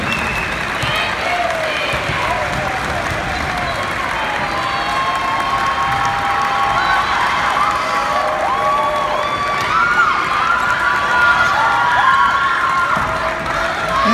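A crowd at an evening student volleyball match applauds steadily, a dense continuous wash of clapping mixed with cheers, whoops and shouting voices that swells slightly near the end.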